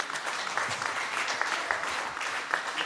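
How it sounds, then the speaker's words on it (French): Audience applause at a tribute ceremony in a hall, a dense steady patter of many hands clapping throughout without pause, moderately loud and fairly close. "Merci d'applaudir Mark Shepson pour ce beau texte."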